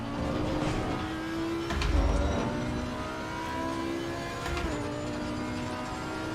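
Race car engine in the sim racing game Assetto Corsa Competizione drones steadily throughout, its pitch rising through gears with shifts around two and four and a half seconds, close and continuous with no talk.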